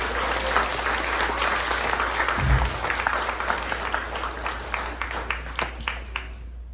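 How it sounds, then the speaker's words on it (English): Audience applause for a 10th-grade haegeum player at a student exhibition, a steady wash of many hands clapping at full strength for several seconds, tapering slightly toward the end, with a brief low thump partway through. "Everybody give Kenneth a round of applause."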